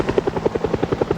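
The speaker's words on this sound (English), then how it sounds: "It's 12:10, so the chopper's been out and about for about 3 hours now." Helicopter rotor chopping from the Project Zomboid video game, a steady rhythmic thudding pulse that stays loud and close for the whole moment with no talking.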